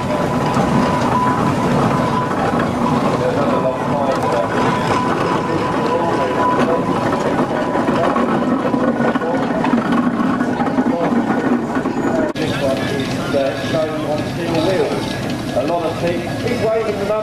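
A steady, loud steam traction engine rumble runs continuously throughout at a rally, with a rhythmic chuffing texture and a shift in tone near the end.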